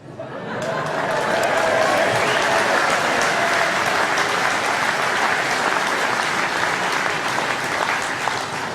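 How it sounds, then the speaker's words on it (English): Applause at a UKIP conference in Doncaster swells up quickly and holds as a loud, sustained roar of clapping, with a hint of crowd murmur and laughter mixed in. "I think that got about the biggest round of applause, actually."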